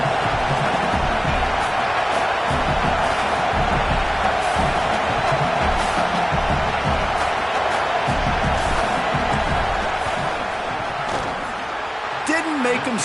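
A dense stadium crowd roars continuously through a field goal attempt in a college football video game, a loud sustained wash of noise with a commentator talking over it throughout.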